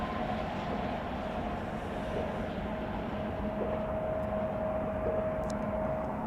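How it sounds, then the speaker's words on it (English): A UPS MD-11 jet rumbles at Chicago O'Hare with a steady, broad, distant roar and a faint whine throughout, with no talking. "we've got UPS 5608 from Louisville on an MD-11"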